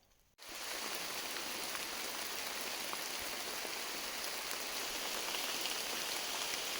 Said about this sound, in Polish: Trochę leje. Nawet bardzo.